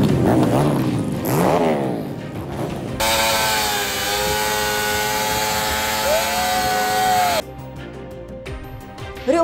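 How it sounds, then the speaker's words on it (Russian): Motorcycle engines roar and rev loudly at a biker show in Makhachkala, a sustained steady drone with pitch changes, alone without talk, then cutting to quieter mixed noise near the end. "Рев моторов, дым столбом и восторги зрителей."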